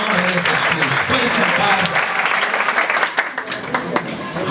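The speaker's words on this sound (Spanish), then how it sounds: "Da un fuerte aplauso al Señor esta noche en el nombre de Jesús." A church congregation applauding loudly during an evening service, dense broadband clapping sustained throughout with voices and shouts mixed in, thinning slightly near the end.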